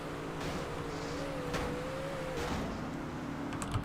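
A car engine in GTA San Andreas revs with a rising, wavering drone while the car sits stuck in a gun range, fairly faint and continuous, with no talking.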